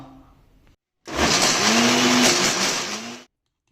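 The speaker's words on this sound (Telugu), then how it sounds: "ఇప్పుడు మరొకసారి మిక్సీ పట్టుకుందాం" A mixer grinder grinding red chilli and tamarind into pickle runs loud and steady for about two seconds, its whirring motor and churning blades starting and stopping abruptly between quiet pauses.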